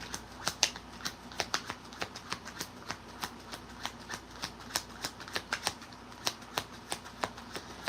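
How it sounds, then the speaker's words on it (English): A deck of playing cards being shuffled, a rapid series of crisp riffling snaps and flicks spread steadily across the whole stretch, close and fairly quiet, with no voices. "Let's get one more shuffle."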